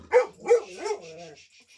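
A drugged-up dog with an ear problem gives a few short, close barks followed by a soft, fading whimper, all heard alone without talk.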